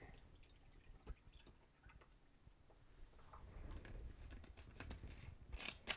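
Tonic water is poured quietly into a glass over gin, with faint fizzing, drips and small splashes building up over several seconds.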